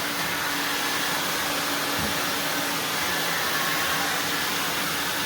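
A Prolux CTX vacuum cleaner runs continuously with a steady, loud whooshing suction roar, and a brief thump partway through.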